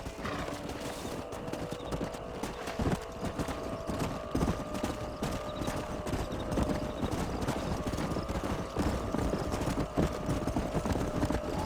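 Horses' hooves clip-clop steadily in the Red Dead Redemption video game, a continuous trotting rhythm with an occasional whinny over an ambient background.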